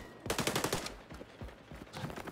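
Fire bullets fired in XDefiant: a rapid automatic burst of close, sharp gunshots, then scattered single shots and another short burst.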